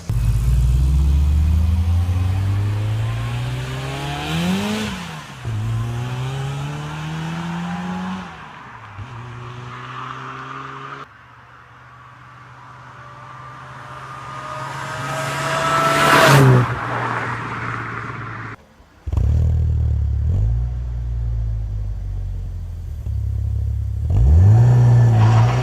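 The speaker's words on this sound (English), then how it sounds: "It is a spiral-looking, scroll-type supercharger with a very different design and also sound than a conventional one." A Volkswagen G-Lader scroll-type supercharged petrol engine, as fitted to the Polo, Golf, Passat and Corrado, revs repeatedly, rising and falling in pitch with loud sustained pulls, a brief quiet lull and sharp throttle blips.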